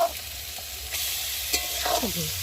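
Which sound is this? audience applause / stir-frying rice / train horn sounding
stir-frying rice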